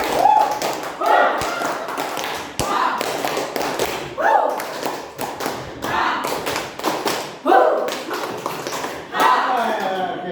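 A group of teachers and adults at a school positive-culture session clap in several short rhythmic bursts, tapping and thumping in a patterned cheer, with a voice leading over it.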